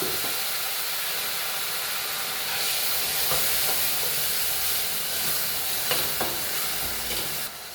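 Shallots and tomatoes fry in hot oil for a chicken curry, producing a loud, continuous sizzle and hiss with occasional clinks of stirring, close and without speech.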